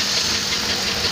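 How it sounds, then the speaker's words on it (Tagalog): Ford Expedition engine idling rough with a shake and misfire, a close, constant mechanical rumble with faint uneven knocking pulses. "Ford Expedition. Ayan, nanginginig ang makina."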